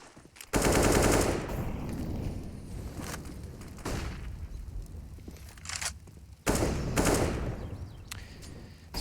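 Rapid bursts of automatic gunfire in a CS:GO match on the Inferno map, loud and close, coming in three separate sprays with short quieter gaps between them.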